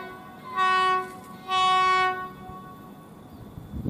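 A passenger train's horn sounds two long, loud blasts about a second apart at Cibatu station, Garut, with low rumbling of the train continuing underneath.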